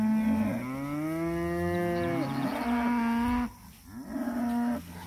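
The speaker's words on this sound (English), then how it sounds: "Cows are all bawling for their calves." Cows bawl for their calves on a farm, long loud moos overlapping one after another from several animals nearby, with a short pause before they start again.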